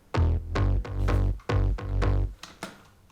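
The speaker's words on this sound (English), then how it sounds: "Very plucky top bass." Plucky synth top bass notes in FL Studio, with no effects, played in a bouncy rhythmic pattern, each sharp attack decaying quickly, loud and dry with no talking.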